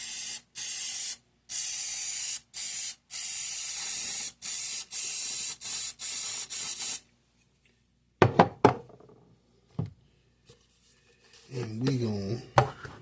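Cooking spray from an aerosol can is released into a coffee cup in repeated short hissing bursts of about half a second each, loud and close, followed by a voice speaking and a few knocks.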